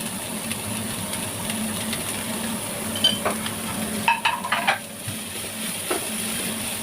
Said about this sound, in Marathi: तसं आपल्याला खोबरं व्यवस्थित भाजून घ्यायचं आहे जास्त त्याला ब्राऊन नाही करायचं हलका ब्राऊन करायचं